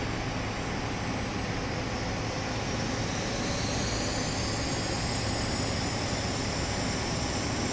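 A BAE 146-300 jet airliner takes off from the runway, its engines producing a loud, sustained broadband roar with a rising whine that stays steady and close throughout, with no voices.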